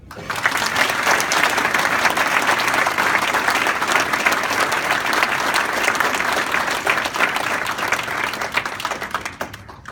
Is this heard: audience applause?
yes